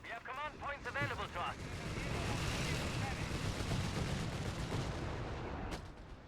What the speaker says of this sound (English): Bishop firing again. Onto the Kettenkred, I think.